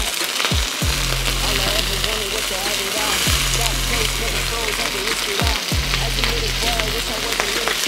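Sea bass fillets sizzling in a hot pan right after being flipped, a constant close crackle and hiss with a low humming drone in the background and a few soft knocks.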